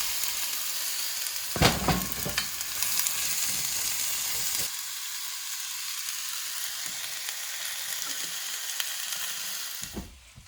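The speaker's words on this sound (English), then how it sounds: "we got the onions caramelizing" Sliced onions caramelizing in a hot pan in a home kitchen, giving a steady, close sizzle with a few stirring clatters early on. The frying hiss continues alone at an even level, then drops away at the very end.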